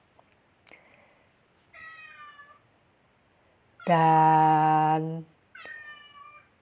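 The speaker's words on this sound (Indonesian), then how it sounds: "kucing dewasa ini mengeong kebanyakan untuk berkomunikasi dengan manusia" An adult cat meows several times at uneven intervals, with short calls on either side of one long, loud, drawn-out meow in the middle, close and otherwise quiet.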